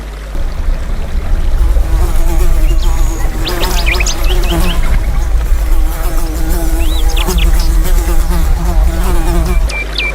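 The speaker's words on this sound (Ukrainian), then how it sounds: "надокучливо дзвенить муха" A fly buzzes steadily and loudly up close, its whine wavering in pitch, with occasional higher chirps from other insects in the background.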